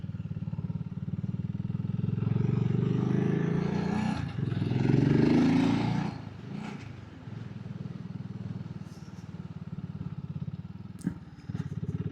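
A BSA Goldstar 650 motorcycle being ridden at a steady pace, its loud engine droning evenly and continuously with a brief swell midway and no one speaking.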